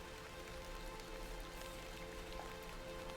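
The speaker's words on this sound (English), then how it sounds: "A bit of rain won't kill me" Steady rain falling in the video game The Excavation of Hob's Barrow, a soft, even patter with a low rumble beneath it and no voices.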